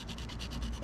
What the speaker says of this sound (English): we're still gonna hit it with some sandpaper just to maybe give it some abrasion for the resin to adhere to